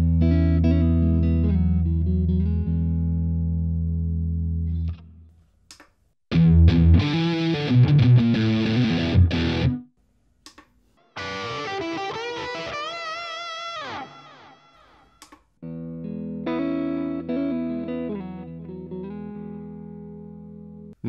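An electric guitar rings out through a Spark amp's tone presets in several short bursts separated by pauses, each with a different tone, from clean sustained chords to distorted riffs.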